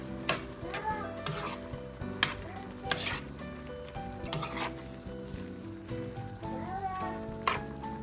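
Shrimp and spinach pasta is stirred in a pan over a soft sizzle, with repeated clinks and scrapes of a utensil against the metal at an uneven, steady pace, close and moderately loud.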